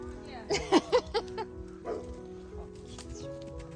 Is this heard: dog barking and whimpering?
yes